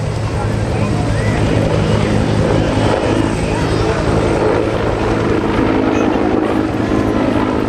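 Military helicopters depart en masse at a Rotorfest air show, a loud continuous rotor thump and engine roar close by, with someone talking over it.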